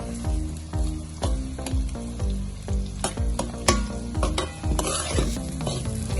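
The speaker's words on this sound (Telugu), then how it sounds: "ఈ ఆనియన్స్ బాగా వేయాలి, ఒక బ్రౌన్ కలర్ వచ్చేంత వరకు వేయిస్తున్నాను నేను ఇందులో" Onions fry and sizzle in a pan while a spoon stirs them in steady, regular scrapes, close and loud, with a continuous hiss of hot oil underneath and no talking.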